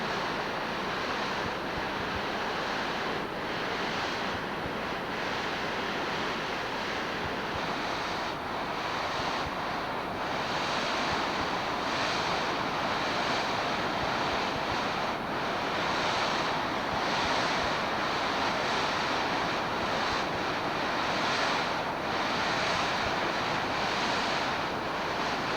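Ocean surf rolling far below a scenic viewpoint, a steady broad roar of waves with gentle swells and wind buffeting the microphone, no voices.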